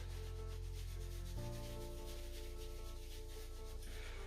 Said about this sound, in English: Just giving your legs a wee rub.